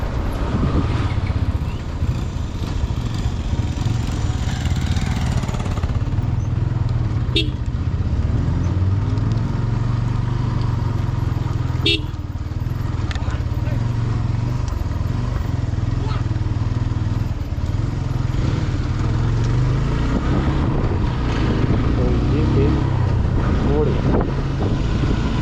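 A motorcycle ridden along a cold Himalayan mountain road between Dharchula and Kuti village near the China border, its engine and wind rumbling steadily and loudly up close for the whole stretch.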